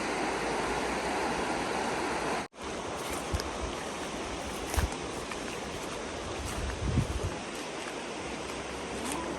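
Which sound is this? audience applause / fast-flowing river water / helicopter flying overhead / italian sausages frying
fast-flowing river water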